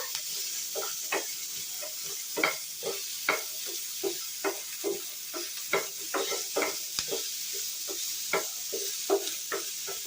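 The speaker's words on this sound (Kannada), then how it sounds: "ವಟಾಣಿ ಹಾಕ್ಬಿಟ್ಟು ಮತ್ತೆ ಫ್ರೈ ಮಾಡಬೇಕು" Green peas fry in a pan for paneer masala, a steady soft sizzle broken by regular, sharp scrapes and taps of a spoon stirring, close and without speech.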